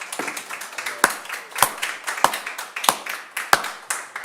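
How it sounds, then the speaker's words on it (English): Hands clap in a sparse, uneven rhythm, several sharp claps spaced about half a second apart after a sale at a live in-room property auction, with no speech over them. "The kids are clapping their hands."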